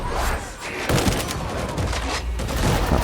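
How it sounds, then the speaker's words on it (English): Dense, rapid gunfire rattles in bursts during suppressing fire in the video game Darktide, loud and continuous with booming impacts layered throughout. "I'm trying to do some suppressing fire again."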